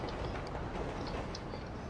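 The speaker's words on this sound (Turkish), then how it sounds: "Bak tren geçiyor." A train rumbles past in GTA V, giving a steady, dense roar with faint rattling that stays constant and fairly close throughout.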